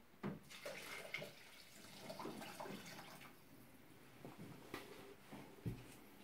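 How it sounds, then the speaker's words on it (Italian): Water running into a Thermomix bowl while making a sausage and green apple risotto, a soft steady pour with some splashing, fairly faint and close, with no talking. "Adesso aggiungiamo l'acqua e"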